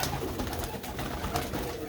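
Pigeons kept in a loft cooing softly, low and steady throughout the moment against a murmur of background noise, with no voices.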